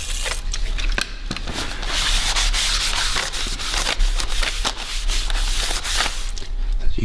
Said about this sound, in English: So you need to get brake cleaner and give the complete face of both faces, front and back, of your brake disc a really good clean.